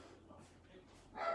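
A dog barking briefly in the background, a short sharp burst at the end, while a person keeps talking close by.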